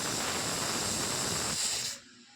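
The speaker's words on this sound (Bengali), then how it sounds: "এদিকে ডালে সিটি উঠছে" A pressure cooker of dal on the stove lets off a loud, steady hissing whistle of escaping steam that runs for about two seconds before cutting off abruptly, leaving a quiet kitchen.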